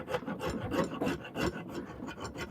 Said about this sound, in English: I'm using the round rasp part of the 4-in-hand here, the aggressive side